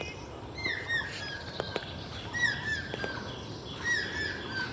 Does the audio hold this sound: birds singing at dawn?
yes